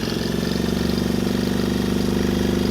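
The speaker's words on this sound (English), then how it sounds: "I will now try to start the engine" Two-stroke engine on a German military generator running steadily, a loud, even mechanical drone with a rapid regular pulse, close by and without talk.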